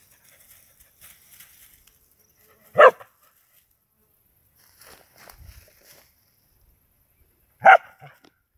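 A dog hunting outdoors sniffs out a snake while searching for a tegu, giving two single sharp barks several seconds apart amid faint rustling and quiet surroundings.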